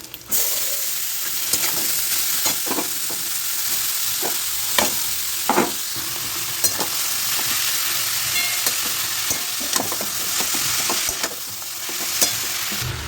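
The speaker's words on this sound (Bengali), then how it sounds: "তো আমি গাজরটা বিট গাজরগুলো দিয়ে দেবো" Carrots and beetroot frying in a pan, a steady broadband sizzle with repeated scraping stirs of a utensil, continuous and close throughout.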